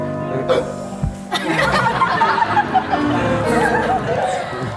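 A news presenter hiccups during a live broadcast, a short sharp catch near the start, followed by laughter and chuckling from several people amid lively chatter.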